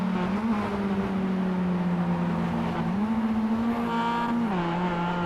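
Several race cars run nose to tail in a tight three-car train at Sebring in iRacing, their engines droning steadily and loud, pitch rising and dipping together through the corners; no talking.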